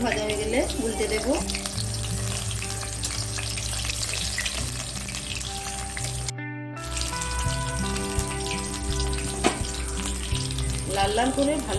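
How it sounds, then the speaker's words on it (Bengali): Batter-coated Kashmiri chili chops frying in hot oil, a steady close sizzle with bubbling and crackling that runs the whole time, briefly cut near the middle, with occasional stirring clatter. "লাল লাল করে ভালো করে ভেজে নেব।"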